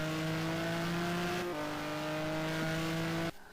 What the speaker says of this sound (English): Sounds like he's in a Maserati.